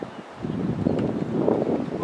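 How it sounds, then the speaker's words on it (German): Wind gusting across an outdoor microphone while balloons are released, a steady muffled low roar that swells slightly and stays close throughout. "Scheiß Wind."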